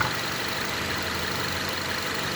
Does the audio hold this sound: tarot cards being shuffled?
no